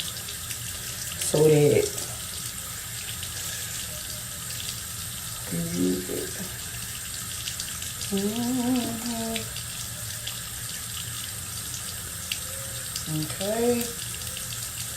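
Water runs steadily from a tap as a continuous soft hiss through the whole stretch, while a few short bursts of talk come and go over it.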